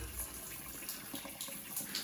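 Water flowing from a spout at a village spring in Uttarakhand, a faint, continuous trickling splash with a soft irregular patter, heard alone and fairly quiet.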